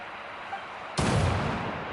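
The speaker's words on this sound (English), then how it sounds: "A flashbang, thanks." Sudden loud blast from a flashbang in the video game Genshin Impact, hitting about halfway through and leaving a broad, roaring wash of noise that slowly fades.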